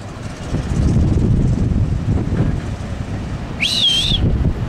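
Heavy wind gusts buffet the microphone outdoors during a building fire in Boa Viagem, producing a continuous rumbling roar; a brief high whistle cuts through near the end.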